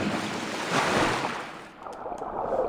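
In Assassin's Creed Valhalla, a character drops into water with a loud, steady rush of surf-like splashing. The wash fades briefly near the end, then swells again, with no voices over it.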